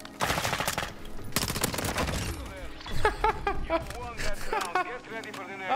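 Rapid bursts from the Tempus Razorback gun in a first-person shooter, loud repeated shots in two volleys with someone talking over and between them.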